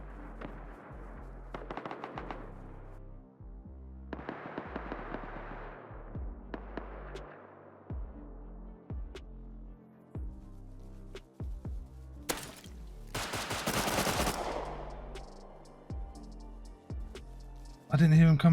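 Gunshots from the video game Rust: scattered sharp shots at close range, a few single reports and short bursts, with a louder rapid volley late on.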